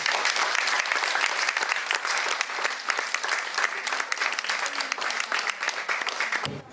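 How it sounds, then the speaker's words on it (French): Applause from the audience at a 2017 rock event, Orange Bleue, as a municipal speech of thanks ends: dense, steady clapping running through the whole stretch, close and even, with no voices above it. "Je vais vous applaudir."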